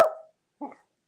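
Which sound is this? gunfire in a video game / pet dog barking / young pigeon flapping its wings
pet dog barking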